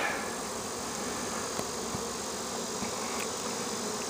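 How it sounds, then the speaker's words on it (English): A dense swarm of honeybees hums steadily around a low wild cherry tree in June, a continuous close buzzing drone with no voices. "You can see there's still an awful lot of bees in the air yet."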